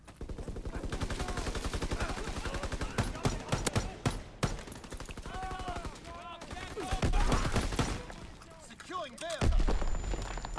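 SVT semi-automatic rifle fire in Call of Duty WW2 multiplayer: rapid strings of sharp shots, then scattered louder cracks and heavier bursts, with a person talking between and over the gunfire.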